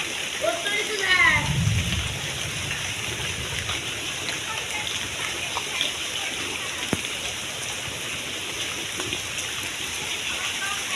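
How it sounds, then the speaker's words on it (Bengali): Rain falls steadily outdoors near a village pond, a constant soft patter, with a brief low rumble and voices early on. "আরও বৃষ্টি চলে আসতেছে"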